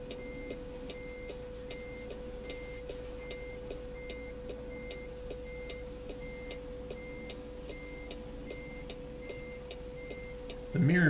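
A T-800 truck in American Truck Simulator backs a trailer while its reversing alarm beeps steadily at an even pace. The beeps ride over a constant engine drone, and a louder thump ends the sequence.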